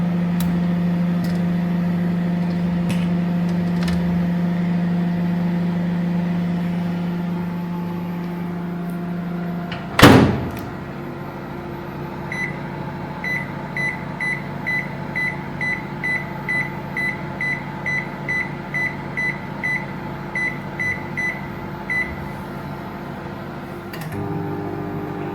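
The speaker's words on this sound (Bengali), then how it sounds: "ওভেনটা দিয়ে দিচ্ছি।" An oven baking biscuits, a steady low hum that drops away after a sharp clunk, followed by a regular series of soft beeps.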